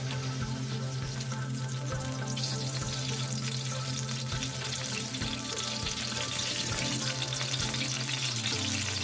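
Butter hits a little hot oil in a pan, giving a soft, continuous sizzle and crackle with faint clinks, quiet and steady throughout with no talk.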